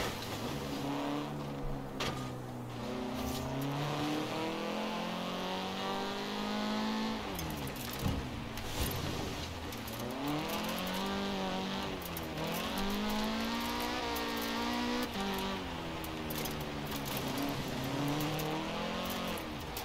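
A 2017 Honda Civic Type R driven in the racing game Forza Horizon 4, its engine rising and falling steadily through gear changes with revving sweeps and occasional tire noise, loud and continuous with no talking.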